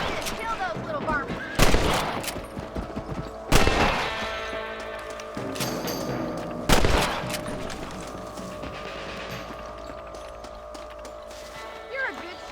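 Three sharp gunshots ring out while hunting rabbits in Red Dead Redemption, spaced a couple of seconds apart and each trailing a brief echo over a steady outdoor ambience, with mechanical clicks between shots.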